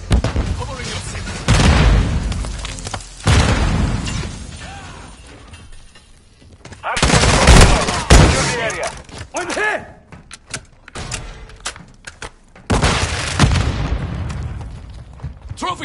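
Call of Duty combat with heavy booming grenade blasts and gunfire arriving in several loud bursts separated by quieter stretches, mixed with clanking mechanical noise and shouted voices.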